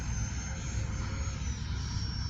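An E-flite 80mm F-16 RC jet with an electric ducted fan flies low over a runway, giving a steady, unbroken whine and rushing roar that holds at an even, fairly loud level throughout.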